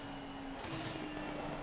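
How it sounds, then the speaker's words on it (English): A GT3 race car engine in a sim racing video game, a steady, droning roar with a sustained tone, loud and continuous, rising slightly partway through. "I think a perfect opportunity to hear the engine sounds through this final sector."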